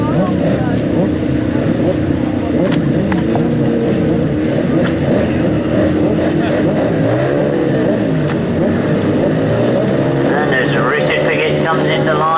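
Racing motorcycle engines at a grasstrack race drone and build steadily in pitch as the revs rise, loud and continuous, with a commentator talking over the noise throughout.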